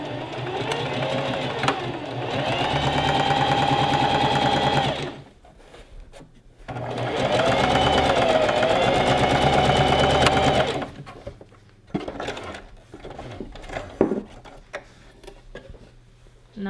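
A sewing machine stitches the neckline of a gathered maxi dress in two long, close bursts of rapid mechanical whirring, separated and followed by quieter clicks and handling of fabric.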